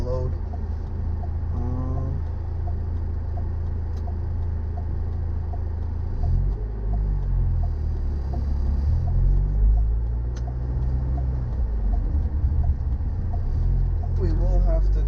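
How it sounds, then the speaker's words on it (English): An Audi A4 engine idles with the air conditioning on, making a low, continuous rumble with a vibrating hum. A voice talks faintly over it at moments. "It's only when I put the AC on at idle, you feel a lot of vibration."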